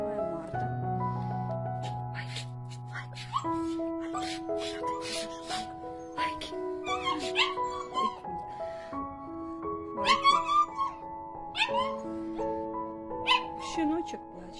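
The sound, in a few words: puppy whimpering and crying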